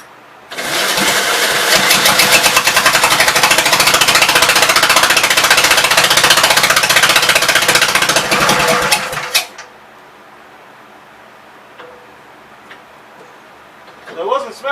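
A smoking Gravely L walk-behind tractor engine starts and runs loud and steady with a rapid mechanical clatter for about nine seconds, then cuts off abruptly, leaving near silence and a brief voice at the end.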